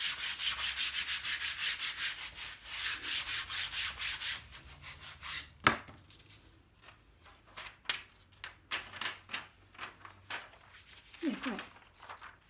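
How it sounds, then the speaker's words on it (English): Rhythmic rubbing on the back of a paper mono-print, with fast even back-and-forth strokes that stop and give way to slower, irregular rubs and light handling sounds, followed by a brief voice. "Just rub that a bit more."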